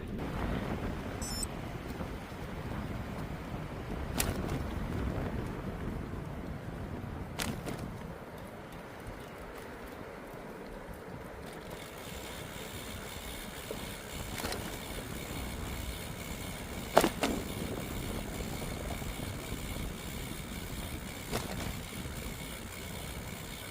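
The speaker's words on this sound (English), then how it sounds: "Wind." Steady wind buffeting a microphone outdoors on a bicycle tour in Arizona forest country, a low rumbling roar with occasional gusty thumps and a few clicks, no speech.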